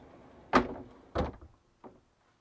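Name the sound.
magnetic bunk door closing in a Thor Omni RV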